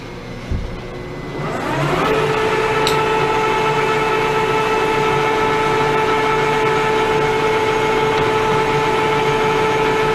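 A Pratt & Whitney Model B lathe spins up and runs at 190 RPM on feed, a steady loud mechanical hum with whining tonal drones after a brief start-up, no voices.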